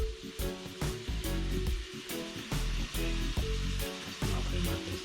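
Sheephead fish frying in hot oil after a kayak catch, a loud continuous sizzle and crackle close up, with rhythmic pulses and bursts throughout.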